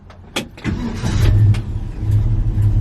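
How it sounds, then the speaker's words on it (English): A pickup truck engine cranks briefly with a sharp starter burst, then catches and settles into a steady, loud low rumble close by. "Starts right up."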